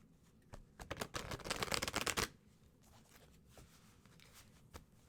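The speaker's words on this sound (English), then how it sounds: "And Sunny is watching me shuffle." A deck of tarot cards, a Grand Lux deck, is shuffled close by in a quick riffling burst of rapid papery clicks, with a few scattered taps before and after in a quiet room.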